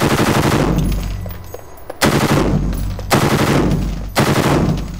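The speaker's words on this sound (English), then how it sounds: "It'll fire in belt-fed or mag-fed modes," Belt-fed short-stroke gas piston rifle firing in long, rapid automatic bursts, loud and close, with three or four strings of shots broken by brief gaps and echoing outdoors.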